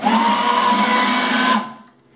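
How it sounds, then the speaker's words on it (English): A countertop blender runs loud and steady as it blends citrus sauce ingredients with salt, whirring for about a second and a half before it cuts off and winds down. "Blend this up."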